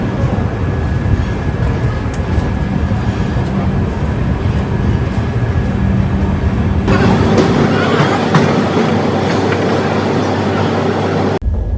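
Godavari Express train running with the steady rumble and rattle of a first-class carriage, a constant loud roar that shifts in tone partway through as the ride continues.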